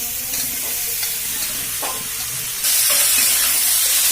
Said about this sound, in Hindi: कटहल के हम अच्छी तरह भून लेंगे। मसाला और कटहल दोनों हमारे अच्छी तरह भुना लेंगे।